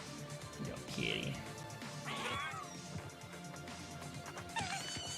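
A cat meows a few times in a voxel stealth game trailer, short cries mixed with crashes and impacts under game sound and talk.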